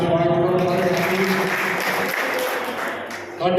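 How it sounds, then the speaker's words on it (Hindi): Applause welcoming Praveen Prabhakar Gaur at an Aam Aadmi Party gathering in Ratia, a steady wash of clapping that runs the whole time beneath a voice talking over it. "भाई प्रवीण प्रभाकर गौर साहब इन्हों का भी तालियां नाल स्वागत करो"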